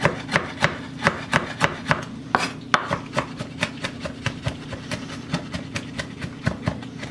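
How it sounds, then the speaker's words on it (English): Kitchen knife mincing garlic on a cutting board: quick, steady chopping taps, around three per second, close and fairly loud with no talk. "So we're actually mincing it to a fine texture."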